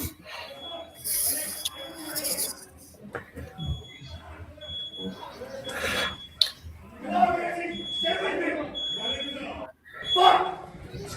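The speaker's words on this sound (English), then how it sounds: "I love the smoke detector going off." At an indoor milsim airsoft event, a smoke detector keeps beeping its high-pitched tone in repeated bursts beneath loud, hurried shouting among players.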